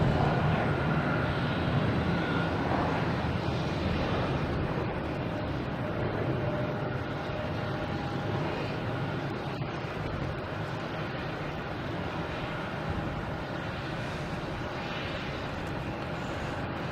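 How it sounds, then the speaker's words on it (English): A JetBlue Airbus A320 at Logan Airport at night produces a continuous broad jet engine roar, steady and moderately loud for the whole stretch, slowly easing off slightly with no talk over it. "This is a JetBlue heading to Charleston. Airbus A320."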